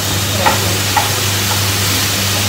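Egg fried rice with lots of vegetables and only a little rice is stirred and mixed in a hot pan, a steady sizzle running throughout with a couple of soft scraping knocks and no talking.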